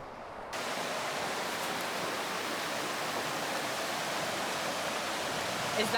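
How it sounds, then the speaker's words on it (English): Water in a creek flows continuously as a broad, even rushing wash that starts abruptly and stays steady and fairly close, with no speech. "This creek is beautiful."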